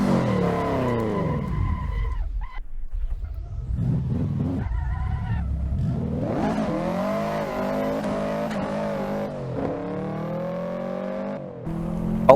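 A tuned Subaru WRX in the Assetto Corsa racing game, driven on a Pikes Peak hill climb, revs and shifts repeatedly. Engine pitch climbs and drops through the gears over about twelve seconds, loud and close with no voices.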